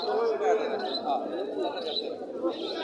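Pigeons coo softly and repeatedly at a pigeon market in Gazipur, beneath steady nearby talking, with a busy background murmur throughout.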